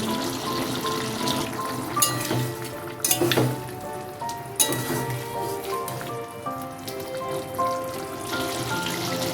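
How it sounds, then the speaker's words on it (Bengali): Potato pieces frying in a pan with spices and a little water for a yogurt potato dish give off a steady, fairly loud sizzle and bubbling crackle, with a few sharper pops and scrapes along the way. "সামান্য জল দিয়ে মশলার সাথে আলুটা ভালো করে কষিয়ে নিচ্ছি।"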